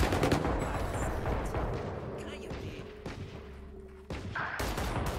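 Rapid gunfire crackles through a round of the video game Among Us, in steady, dense bursts at moderate loudness with a brief gap before the shooting resumes.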